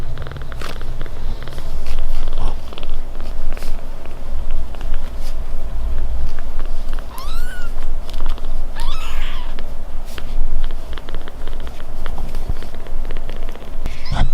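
A kitten purrs softly and continuously close by, a low rumbling texture with a couple of faint high mews breaking through midway.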